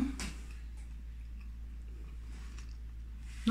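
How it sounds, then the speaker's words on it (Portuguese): Someone bites into and chews a rustic homemade Brazilian sandwich, close to the mic, with a crunchy bite near the start and another near the end over a steady low background hum. "Deixa eu dar a primeira mordida."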